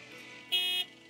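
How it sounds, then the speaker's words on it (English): A car horn honks once in the video game Lake: a short, clear, bright tone lasting about a third of a second over a quiet background hum. "I can honk my honk"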